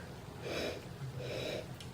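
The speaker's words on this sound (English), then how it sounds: "inhale using quick, deep sniffs" Two quick, deep sniffs of wine taken with the nose inside a glass. They come about a second apart, soft and close-up, with quiet room tone between them.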